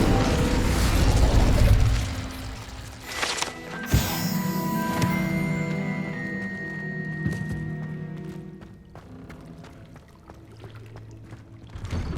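Incendio fire spell cast in the Hogwarts Legacy game: a sudden burst and boom followed by crackling, ringing magical shimmer that lingers and fades, with game ambience under it.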